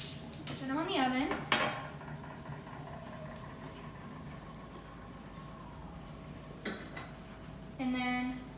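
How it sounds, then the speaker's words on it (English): Metal trays of homemade macadamia nuts are put into an oven, with sharp metallic clanks and rattles at the start and end and a quiet hum between them. "And I'm just putting them on the oven."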